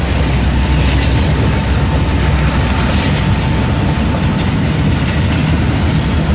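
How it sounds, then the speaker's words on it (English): BNSF freight train working a rail yard on the Sioux City subdivision, a loud, continuous rumble with rolling rail-car clatter and a faint high squeal, close by and unbroken. "Is BNSF working the yard right behind me on the Sioux City subdivision."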